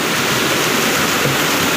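Water from a landslide after heavy rain in Majua, South Sikkim rushes toward houses as a steady, loud broadband roar, continuous and unbroken, with no voices over it.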